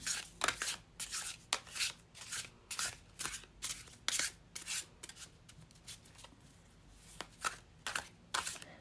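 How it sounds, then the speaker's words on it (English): Tarot cards are shuffled in quick, crisp bursts of riffling and rubbing, repeated steadily at close range with no talking. "shuffle with intention"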